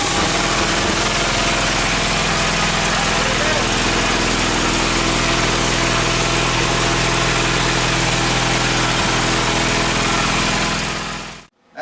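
A Gravely walk-behind tractor engine running steadily close up, a loud continuous small-engine drone with a fixed throbbing pitch that holds for about eleven seconds, then cuts off abruptly.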